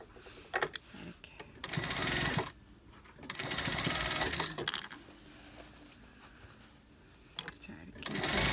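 A sewing machine stitches mink fur onto a coat sleeve in several short, loud runs separated by pauses, with someone talking between the bursts.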